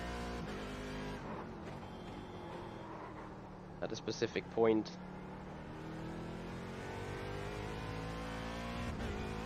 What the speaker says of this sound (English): You also hear the traction control work, so you know exactly when you're over pushing on the gas.